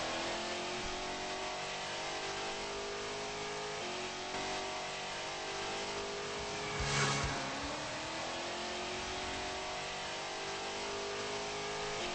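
A video game race car's engine drones and revs steadily through a lap in third gear, a continuous mid-pitched whine with gear-like pitch shifts and a brief louder burst midway, with no talking.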